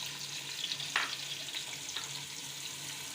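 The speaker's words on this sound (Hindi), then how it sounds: "सबसे पहले हम घी में प्याज डालेंगे। बिस्मिल्लाह। इसको फ्राई करेंगे" Onions frying in ghee in a pan for a dal mash dish, producing a steady, soft sizzle with a few brief sharper crackles and stirring scrapes, no voices.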